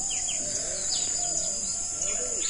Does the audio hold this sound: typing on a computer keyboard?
no